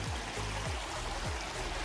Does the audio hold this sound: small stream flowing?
yes